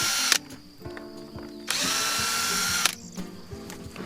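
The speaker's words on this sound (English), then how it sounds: "let me go get my drill so I can undo some of these screws" A cordless power drill whirs in two sustained bursts as it undoes screws on a wooden compost toilet bin outdoors, with short clicks and taps between the runs.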